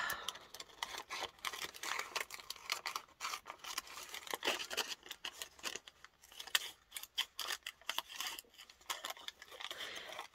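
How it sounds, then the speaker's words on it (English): Scissors snip through a paper baguette bag, giving a busy run of crisp cuts and crinkles with the paper rustling between strokes, close and fairly quiet with no talk. "Instead of rough tearing it, I'm going to go ahead and cut"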